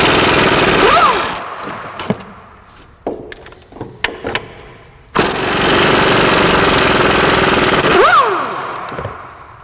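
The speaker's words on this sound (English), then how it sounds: "I'm just going to go for the 1/2 inch impact right out of the box." A 1/2 inch impact wrench hammers at rusted brake caliper bolts on a 2003 Nissan Sentra, loud sustained rattling bursts of a couple of seconds each, separated by quieter clunks and handling noises.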